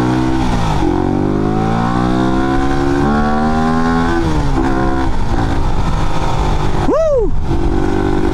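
A Raider 150 FI motorcycle fitted with a ram air intake revs hard and close, its engine pitch climbing and falling across several sustained pulls, then a sharp rev sweeps up and drops near the end.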